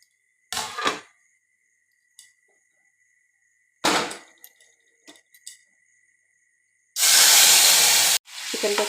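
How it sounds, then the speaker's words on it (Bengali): Chicken drops into hot oil in a wok and erupts in a loud, sustained sizzle near the end, after several short metallic clangs and scrapes from the pan. "এবার আমি চিকেনটা দিয়ে দেবো।"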